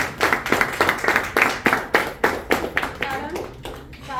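At a company meeting in Vivanta Hotel, an audience claps in brisk repeated bursts for a colleague, the close handclaps mixed with voices talking.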